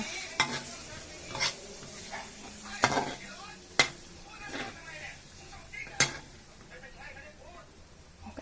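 Shallots and chili frying in a pan make a low background sizzle, broken by sharp scrapes and clacks of a utensil stirring against the pan at irregular intervals, with soft voices in the background.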